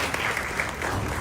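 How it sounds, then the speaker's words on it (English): Steady applause from the audience at a children's carnival band launch, fairly loud and continuous, with no talking over it. "So give yourself a round of applause."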